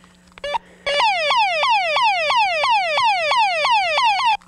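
Electronic emergency siren sound effect, a fast repeating rising whoop with a sharp start after a brief blip, loud and steady over several cycles, no voices.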